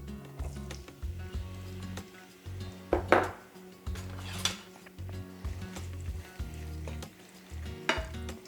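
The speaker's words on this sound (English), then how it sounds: "we want to cook the garlic until we see it starting to turn brown" Garlic cloves frying in hot olive oil for spaghetti aglio e olio, a soft sizzle with a few stirring and pan clinks, quiet and close, no voices.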